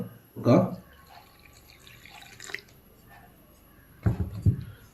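Water splashes and trickles into a bowl of maida flour for vettu cake dough in two short bursts, with a quieter wet stretch between them, close and fairly loud.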